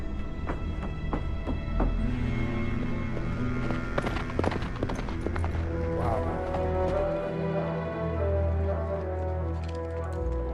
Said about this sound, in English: That's the sheriff's horse